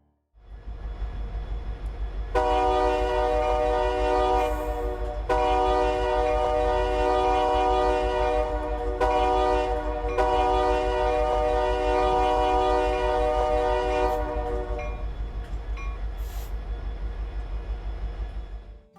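Union Pacific Triclops locomotive horn sounding in the Ro-Scale train game, a loud multi-tone blast held for many seconds with a few brief breaks over a constant low engine rumble, no voices.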